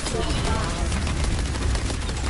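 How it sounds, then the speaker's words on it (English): Video game gunfire, a dense, continuous loud barrage of rapid shots with heavy low rumble throughout, close and busy without clear talk. "Just shoot it."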